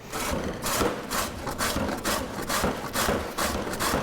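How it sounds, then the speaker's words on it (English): Yellow summer squash rasps steadily across the large holes of a kitchen grater in quick, even back-and-forth strokes, close and fairly loud with no talking. "Today we're gonna grate this yellow summer squash"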